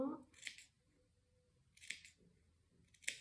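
Scissors snipping small notches into dress fabric near a seam, three short crisp cuts spaced apart, close and quiet, with someone speaking softly at the start.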